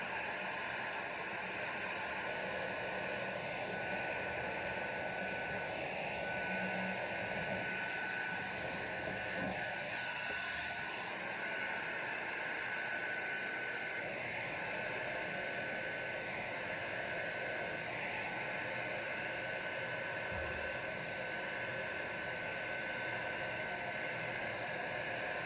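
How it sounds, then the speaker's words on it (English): A steady, continuous blowing hiss from a hair dryer on its cool setting runs without a break at an even, fairly loud level. "Blowing it around with my hairdryer on cool."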